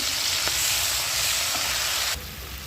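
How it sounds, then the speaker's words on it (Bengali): Spices sizzle steadily in a hot pan as cumin and coriander powder are sautéed, a loud continuous frying hiss with a couple of light stirring taps, dropping off sharply near the end. "জিরে গুঁড়ো 1 চামচ, ধনে গুঁড়ো 1 চামচ দিয়ে এটাকে ভালো করে কষবো"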